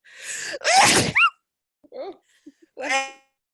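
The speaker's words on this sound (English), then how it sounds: "I'm going to sneeze in a second." A single loud sneeze, preceded by a sharp inhale, followed by brief soft vocal sounds and a short spoken reply.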